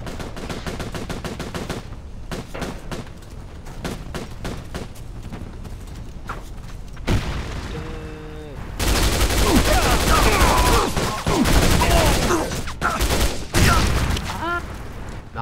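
Gunfire and grenade explosions in the online shooter CrimeCraft: steady rapid shots at first, then a mechanical rattle and a loud, sustained barrage of blasts and firing, growing denser and heavier in the second half.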